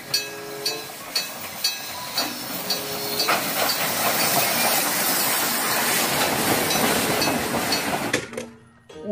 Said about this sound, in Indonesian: Wah, kereta Thomas.